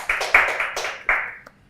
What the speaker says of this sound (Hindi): गाइस एक बार जोरदार तालियां होनी चाहिए फॉर द होल टीम